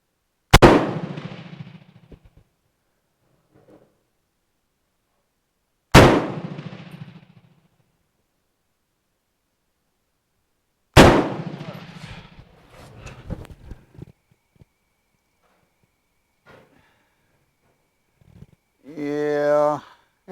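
A MAS 49/56 rifle fires three loud, separate shots at targets at an outdoor range, several seconds apart. Each shot cracks sharply and its echo tails off. A brief voice follows at the end.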